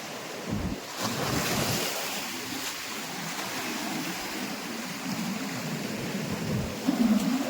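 Sea waves surge steadily onto a rocky shore at dusk, a continuous loud wash of surf mixed with wind buffeting the microphone.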